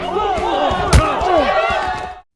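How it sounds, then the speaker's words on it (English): A staged fistfight between two students, Kiefer and David, during a class president election in a drama, with thuds and slaps over shouting and crowd noise, a heavy impact standing out near the middle. "Instead of a vote, it turns into a fistfight between Kiefer and David."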